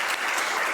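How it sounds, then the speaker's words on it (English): A brief burst of dense audience applause for five election candidates at a community forum, steady and moderately loud with no pauses. "giving a big round of applause to our 5 candidates"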